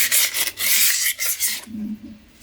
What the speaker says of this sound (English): take the rod and with some nice gritty sandpaper, just give it a quick